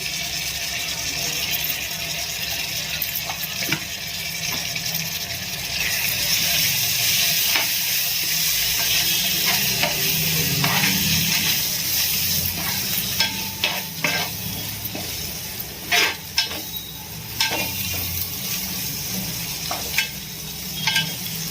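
Ginger-garlic paste frying in a pan after coriander and mint, a loud, steady sizzle close by with intermittent scraping and clicks of a spatula stirring through it.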